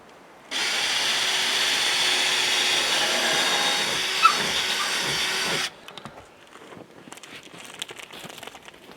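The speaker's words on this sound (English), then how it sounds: "So let's drill that hole through here." A drill bores a hole through wood while building an archery and hawk range, a steady, loud grinding whir running about five seconds before stopping, followed by quieter handling noises.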